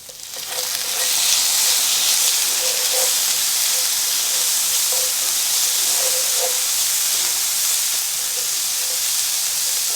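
Onions, carrots and garlic fry in a pan with a steady, bright sizzle and hiss, loud and close, with faint crackles popping through throughout.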